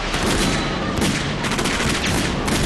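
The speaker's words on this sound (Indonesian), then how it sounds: "aksi baku tembak pun terjadi" Dense gunfire from a film shootout scene, rapid overlapping shots and bursts filling the whole stretch, loud and close with no pauses.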